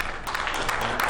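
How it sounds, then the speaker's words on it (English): A church congregation claps hands together in praise, producing a dense, continuous patter of many hands at close range for about a second. "Give the Lord a hand clap of praise."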